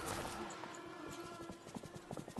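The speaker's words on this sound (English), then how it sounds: "I'm gonna ride the horses now" Horse hooves clip-clopping in the video game Disney Dreamlight Valley, a quick steady run of hoof clops over a soft ambient music bed, with the clops growing more distinct toward the end.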